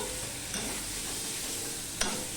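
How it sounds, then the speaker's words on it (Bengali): Magur catfish curry with broccoli sizzles in a wok while a spatula stirs and scrapes it, a loud continuous frying hiss broken by a couple of sharp scraping strokes, close and without speech. "দেখো প্রায় কষানো হয়ে আসছে কড়ার গায়ের থেকে তরকারিটা উঠে যাচ্ছে"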